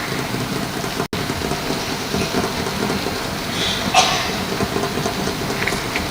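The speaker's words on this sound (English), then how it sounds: "I was then already convinced that it is raining." Steady rain falls on a surface, a dense unbroken hiss with brief brighter spatters, filling the whole stretch without voices.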